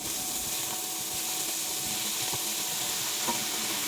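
Boiled pork is stirred into a pan of sautéing ginger, garlic and onion for pork tinola, a steady close sizzle with soft scraping and stirring throughout.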